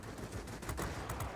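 Rapid 20mm cannon fire from an F4U-4 fighter plane in World of Warplanes, a dense, continuous rattling burst of shots for a second or so, with no talk.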